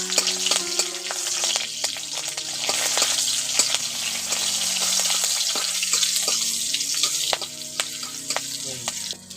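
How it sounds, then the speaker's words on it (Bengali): Black cumin seeds and halved green chillies sizzle steadily in hot oil as a tempering for a tangy tomato small-fish curry, a loud, close, continuous frying hiss with scattered crackling pops. "আর ফোড়নটাকে একটু ভেজে নিচ্ছি"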